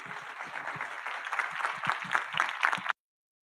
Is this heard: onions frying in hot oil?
no